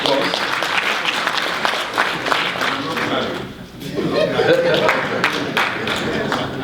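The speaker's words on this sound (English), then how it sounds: "I thought that merited a round of applause" Audience round of applause during a speaker introduction at an institute event, a dense spell of clapping that dips briefly midway then swells again, mixed with light chatter and chuckles from the crowd.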